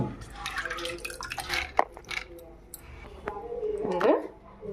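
Water poured into a grinder jar of washed, soaked black gram, giving brief dripping and splashing bursts with a short trickling pour near the end, close by.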